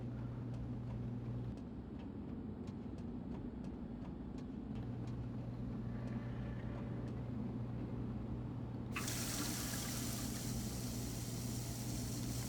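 In Prey, a sink tap turns on partway through and runs with a steady, hissing rush of water while the character drinks, over a low mechanical ambient hum.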